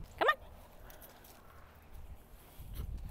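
A pet dog gives one brief high whimpering yip near the start, followed by quiet background and some low shuffling or footstep-like thumps toward the end, outdoors in a garden.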